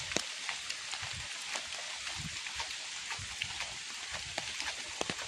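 Steady rain falling and pattering on surfaces outdoors, with dense fine drops and scattered louder splats over a constant hiss, close and fairly loud, no talking.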